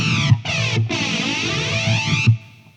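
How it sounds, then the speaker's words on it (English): An electric guitar runs through a Zoom 505 multi-effects pedal with a swirling phaser and flanger sweep and heavy reverb, a few strummed chords ringing loudly with sweeping, comb-like shimmer before fading out. "Phaser, flanger type thing going. Quite a lot of reverb."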